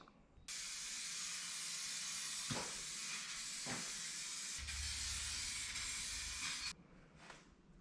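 A long, steady hiss of an aerosol clear coat spray can, close and even for several seconds, with a couple of brief clicks before it cuts off.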